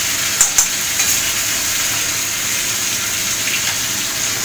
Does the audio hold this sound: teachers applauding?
no